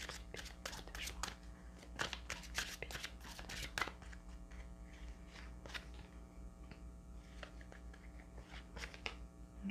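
Tarot cards being shuffled and drawn at close range for a love reading, with repeated soft riffling and slapping card sounds over a steady low hum, plus occasional quiet speech.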